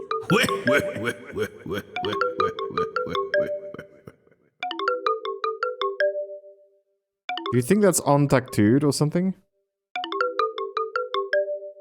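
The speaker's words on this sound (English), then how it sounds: "Is someone's cell phone ringing?" A cell phone rings in the video game Deadly Premonition 2, repeating a melodic electronic ringtone in several bursts with short gaps, loud and close, as a voice talks over the first part.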